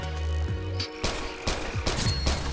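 A sidearm in Metal Gear Online 2 fires a quick burst of sharp, close shots over game ambience with tonal hums, the reports clustered and punchy.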